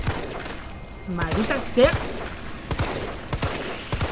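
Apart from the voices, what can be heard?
gunfire in the video game Resident Evil 3 Remake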